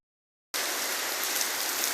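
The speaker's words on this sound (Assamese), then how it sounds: "বৰষুণ দি আছে, পুৰা বৰষুণ দি আছে।" Steady rain falling, a dense even hiss that starts abruptly after half a second of silence and holds unchanged, close and fairly loud.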